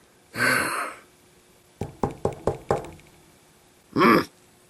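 A burst of five sharp, evenly spaced knocks on a door sounds close and clear, set between a breathy sigh before it and another short exhale after, with no talking.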